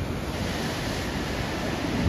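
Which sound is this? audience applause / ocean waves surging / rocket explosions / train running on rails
ocean waves surging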